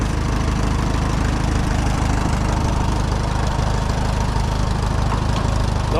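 An Allis Chalmers WD tractor engine runs steadily while driving a belly-mounted sickle bar mower through abandoned second-cut hay, a constant loud, throbbing low chug with a rapid rhythmic beat throughout.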